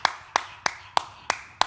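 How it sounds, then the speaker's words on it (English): Six sharp, steady hand claps at a relaxed, even pace, close by with no voices, given as applause for Dave. "Let's clap for Dave, man."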